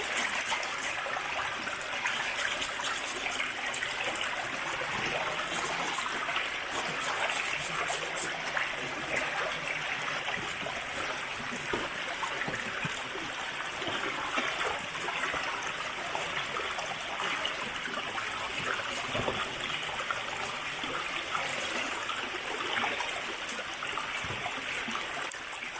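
Shoes being washed at a river in a Kenyan village, with the water rushing and trickling steadily at close range and a dense, continuous wash of sound throughout, no voices.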